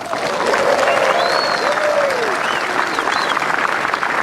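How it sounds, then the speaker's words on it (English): Crowd applause at a golf tournament tee as a three-time Masters champion from South Africa is introduced, steady dense clapping across the whole stretch with faint voices mixed in. "Doesn't the applause even sound a little different?"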